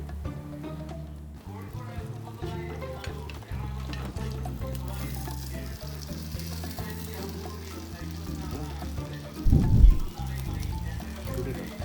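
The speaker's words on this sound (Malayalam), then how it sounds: "കണ്ടോ, ഇപ്പം ഹാഫ് ഫ്രൈ ആയിട്ടുണ്ട്. അതിനെ തിരിച്ചിടുവാണ്." Fish frying in hot oil with a steady, soft sizzle as pieces are turned over, plus a brief louder clatter near the end and a voice talking throughout.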